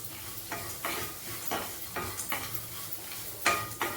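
Coconut and other ingredients for raw banana kola urundai are sautéed in a pan, with a soft ongoing sizzle broken by repeated scraping and tapping strokes of a spoon against metal.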